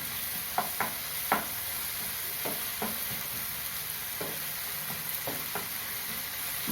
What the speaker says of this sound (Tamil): தக்காளி நல்லா குழைய வதக்கணும்